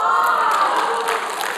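A church congregation breaks into applause mixed with cheering during a worship service, a dense, lively crowd burst that tapers slightly toward the end.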